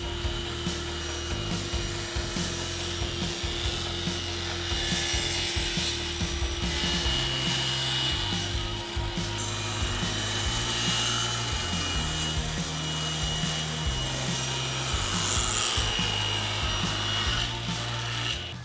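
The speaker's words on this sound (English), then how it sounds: "Using my micro jig tapering jig, I'm going to taper each inside face of each leg." Table saw with a MicroJig tapering jig cutting tapers along the inside faces of wooden table legs: a continuous loud whine of the blade through wood with a steady motor hum throughout, close and uninterrupted.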